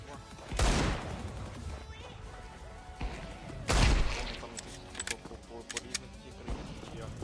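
Two bursts of rapid gunfire erupt a few seconds apart in Counter-Strike 2, followed by scattered clicks and thuds, with voices talking faintly underneath.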